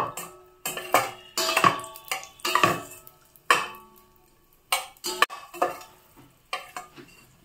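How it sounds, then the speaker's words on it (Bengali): Raisins fry in hot cooking oil in a pan, giving close sizzling bursts mixed with spoon stirring and scraping against the pan, coming in irregular spurts with short quiet gaps between. "তেলটা যখন গরম হয়ে আসবে তখন আমি কিছুটা পরিমাণ কিশমিশ দিয়ে দিব। কিশমিশগুলো হালকা একটু ভেজে নেব।"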